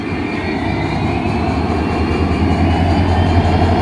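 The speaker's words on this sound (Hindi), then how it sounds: "उदयपुर सिटी जा रही है, और ये है लोकोमोटिव हावड़ा योगनगरी का।" A passenger train rumbles past at a railway station in India, a loud, steady close-up roar of rolling wagons with a low drone and faint wheel noise throughout.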